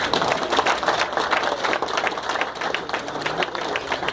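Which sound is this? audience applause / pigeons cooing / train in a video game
audience applause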